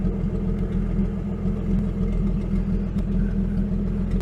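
A 1949 Chrysler with a 251 engine runs steadily at idle after sitting for 18 months, a continuous close low rumble with an even, unbroken drone and no talk over it.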